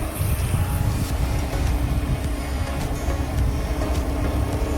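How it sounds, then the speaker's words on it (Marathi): A car speeds along a road, a loud, steady rumbling rush of engine and road noise that stays close throughout. "गाडी एकदम फास्ट मारत आहे"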